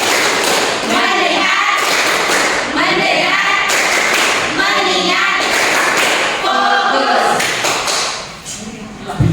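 A school class plays the rhythmic clapping game tepuk fokus, with groups of quick claps and taps coming in repeated bursts, and voices chanting along between and over them.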